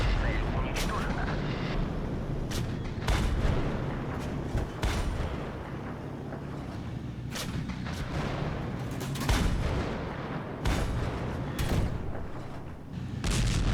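Tank cannon fire in a World War II tank video game, with repeated heavy booming shots and metallic impacts over rumbling engine and battle noise, while someone talks over it.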